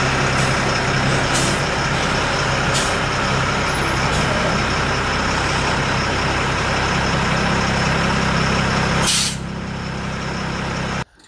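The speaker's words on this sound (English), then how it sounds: "I just maneuvered the truck up next to the MEP 802 Alpha generator" An M1078 LMTV military truck idles loudly and steadily while being maneuvered, with sharp air brake hisses near the start and a long release burst near the end before the engine note drops.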